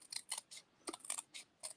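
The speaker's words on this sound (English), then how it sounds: "You have the scissors. So you can just clip along." Scissors clipping paper in a craft session, a rhythmic series of crisp, close snips in quick succession with short pauses, no talking.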